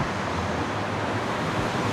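Strong wind blowing outdoors in Bangkok on a warm, sunny day, a steady broadband rush buffeting the microphone, loud and unbroken, with no one talking.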